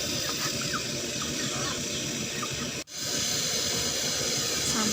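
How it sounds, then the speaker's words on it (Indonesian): Water boils in a covered pot of corn on the stove, a steady close hiss and bubbling roar that continues throughout with one brief dropout. "sampai benar-benar mendidih seperti ini"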